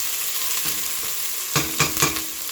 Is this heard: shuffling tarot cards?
no